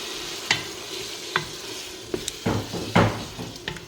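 Garlic and spices, ras el hanout among them, fry in a pot for chorba while a spoon stirs quickly, sharp scrapes and knocks against the pot over a continuous close sizzle.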